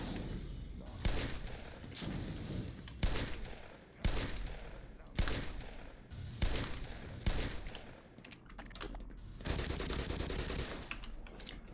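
Gunfire from the video game Black Mesa: repeated loud bursts of shots in rapid clusters, close and punchy, separated by short gaps over a steady background of game noise.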